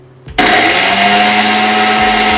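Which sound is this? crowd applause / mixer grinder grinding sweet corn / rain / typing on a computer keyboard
mixer grinder grinding sweet corn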